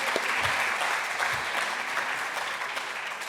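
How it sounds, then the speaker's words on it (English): Sustained audience applause fills a hall at the Tiqets Remarkable Venue Awards 2022, a dense, steady crowd clapping throughout with a faint voice or two underneath. "Can we have one more round of applause for all of our stellar venues?"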